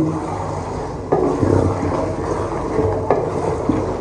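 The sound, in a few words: chicken white tikka being stirred and fried on low flame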